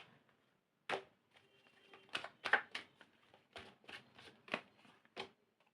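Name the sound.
tarot cards being shuffled and drawn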